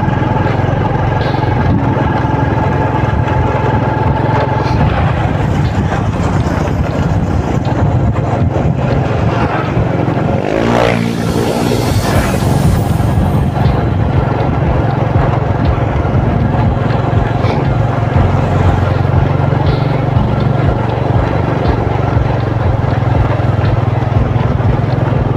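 A motorbike ride recorded up close: a continuous loud engine drone with rushing wind steady throughout, briefly swelling around the middle, with no talk.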